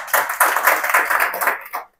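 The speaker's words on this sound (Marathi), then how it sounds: "सरांसाठी एकदा जोरदार टाळ्या" An audience gives a short burst of loud clapping at a social foundation gathering, many hands together for about two seconds before it stops abruptly.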